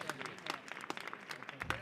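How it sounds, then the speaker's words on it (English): Crowd at an amateur football match between CD Almunecar City and Atletico Padul applauds as the injured Padul goalkeeper is forced off, scattered claps under a commentator's voice. "as a large round of applause comes for the Padul keeper"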